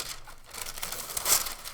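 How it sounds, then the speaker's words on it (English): Packaging paper crumpled and crinkled by hand while unboxing a craft subscription kit, a continuous close rustle with a sharper crunching burst near the end, no voices. "let's get this stuff out of here so I'm not making as much noise with this paper"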